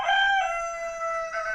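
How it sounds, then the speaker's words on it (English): A rooster crows loudly and close by, one long drawn-out call with a rising end. "them roosters sure loud"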